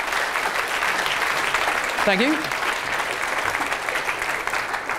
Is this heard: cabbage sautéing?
no